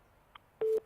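A single short telephone busy tone sounds after a call-in connection drops, a brief steady electronic beep following a faint click.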